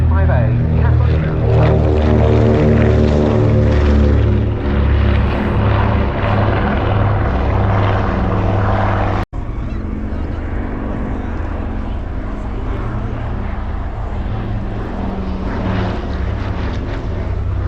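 Consolidated PBY-5A Catalina amphibious aircraft getting airborne at the 2024 RAF Cosford Airshow, its piston propeller engines giving a loud, droning hum with strong harmonics that cuts briefly midway, then carries on steadier and slightly quieter.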